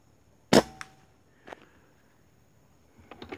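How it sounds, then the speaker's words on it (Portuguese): A PCP Urko III air rifle firing a Chumbo Rifle Destroyer pellet at a 40-metre target: one sharp, loud crack near the start, a short echo after it, then faint clicks and handling noises. "estamos aí para fazer mais um testezinho com a PCP Urco 3"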